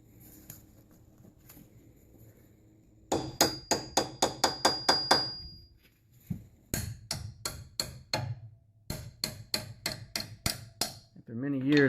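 Hammer blows striking brake caliper bolts held with a 3/8 Allen wrench, coming in two quick runs of sharp, evenly spaced metallic knocks, close and loud, with brief pauses between the bursts.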